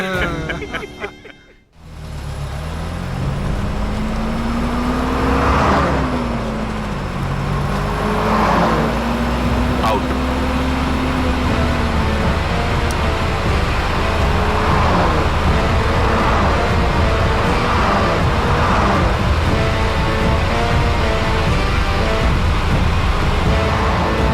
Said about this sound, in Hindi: हमारे फोन के इंतजार में 20 की स्पीड में गाड़ी चला रहे हैं।